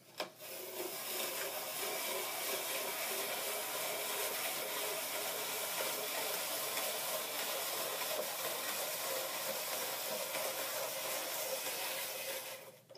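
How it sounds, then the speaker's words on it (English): A Paderno spiral vegetable slicer cutting through an onion, a continuous steady rasping whir of blade against onion, close and even for about twelve seconds without talk. "Alright, just sliced up that whole onion"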